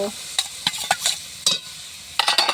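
Chopped onion hits a hot pan for a mixed vegetable curry cooked in goat fat, giving loud close bursts of sizzling and stirring scrapes in uneven strokes, with no speech.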